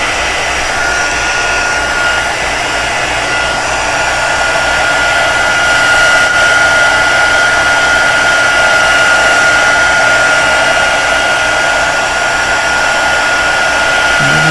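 A heat gun blows hot air over embossing powder on cardstock, making a loud, steady, close roaring whoosh that runs unbroken the whole time with no voices.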